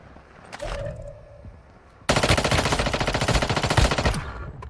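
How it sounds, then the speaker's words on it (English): SMG fire in the mobile shooter Warzone Mobile: after a brief whoosh and a quieter stretch, a loud, rapid, sustained burst of automatic gunfire begins and continues to the end. "SMG, by the way."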